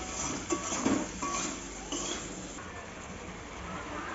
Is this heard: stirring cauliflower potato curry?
yes